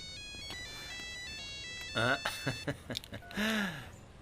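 A mobile phone plays a melodic ringtone for an incoming call in a Telugu film comedy scene, ringing clearly for about two seconds before voices take over with a gasp and talk.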